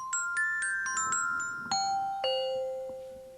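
Bell voice played on a Marimba Lumina electronic mallet controller: about eight clear struck tones in an unhurried sequence, each ringing on with long bright sustain and overlapping the next, moderately loud with no talk.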